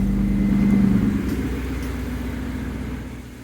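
A car engine runs at a steady low idle close by, with the drone fading slightly toward the end.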